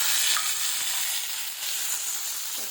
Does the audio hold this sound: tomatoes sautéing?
yes